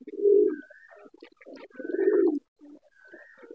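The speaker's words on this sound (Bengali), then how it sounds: "পুরো বড় কবুতরের বাচ্চা হয়ে গেছে" A pigeon coos close by in a few low, throaty phrases separated by short pauses, with quieter soft calls between them, no talking.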